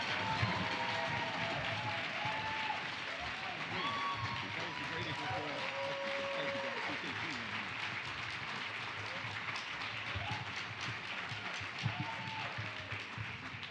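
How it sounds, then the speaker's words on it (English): An audience applauds and beats on tables to welcome a keynote speaker at a food and farm forum, giving steady, dense clapping with scattered whoops and crowd noise, and voices mixed in underneath. "please, beat on your tables, round of applause, whoop it up"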